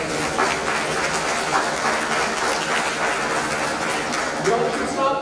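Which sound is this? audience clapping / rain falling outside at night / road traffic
audience clapping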